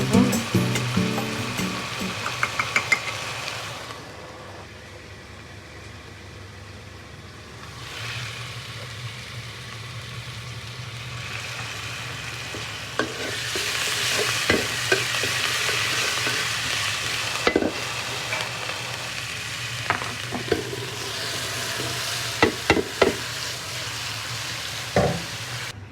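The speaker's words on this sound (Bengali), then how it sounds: "এখানে আমি পেঁয়াজের সাথে একটু হলুদ মরিচ দিয়ে এদিকে তরকারিটা বসিয়ে" Onion with turmeric and chili fries in a pan for a curry: a sizzle at the start fades to near quiet, then returns louder with scattered clinks and scrapes of stirring.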